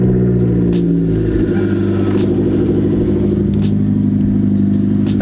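A car engine idles steadily just after a warm start, with a loud, close, continuous rumble and some light clatter and slight rev changes on top.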